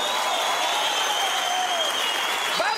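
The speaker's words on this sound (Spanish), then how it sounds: "¡Un aplauso!" An audience applauds at a live comedy-style storytelling show, producing a dense, loud, continuous wash of clapping with some crowd cheering mixed in.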